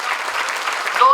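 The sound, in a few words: audience applause at a poetry gathering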